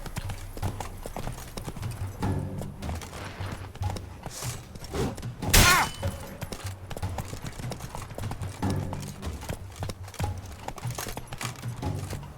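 The horse Roach in The Witcher 3 trotting with steady, rhythmic clip-clop hoofbeats close by, continuing throughout with one brief louder burst midway and faint background game sound.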